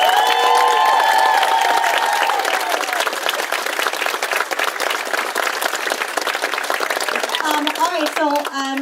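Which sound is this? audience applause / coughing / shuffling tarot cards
audience applause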